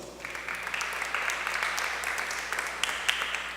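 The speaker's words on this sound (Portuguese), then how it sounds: "palmas." Fairly faint, steady applause from a church youth gathering, many hands clapping continuously for a few seconds with a soft, distant crowd wash.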